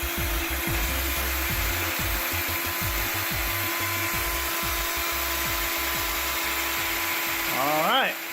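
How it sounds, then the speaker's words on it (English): A power drill bores into a wall while a rain gutter bookshelf is being mounted, a steady close whir with a rising pitch sweep at the end; voices talk over it throughout. "going to drill by himself again"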